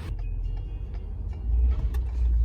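Car driving along, heard from inside the cabin: a steady low road and engine rumble that grows slightly louder near the end, with faint soft sounds inside the car and no clear talk.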